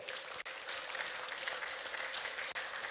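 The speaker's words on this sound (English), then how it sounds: "I believe we can make the applause a bit louder." Audience applause at a ministerial press briefing for the Ministry of Industry, Trade and Investment, a steady dense clapping that runs throughout at moderate level with two brief dips.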